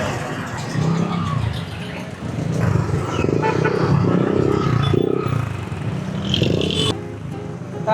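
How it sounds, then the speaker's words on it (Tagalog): Busy road traffic on Pote rides past a cyclist on a Mother's Day outing, a steady mix of car and motorcycle engines with revving swells, continuous and fairly close. "Traffic guys."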